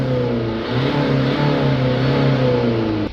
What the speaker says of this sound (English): Just give it a few revs now to clear away the steam from the exhaust.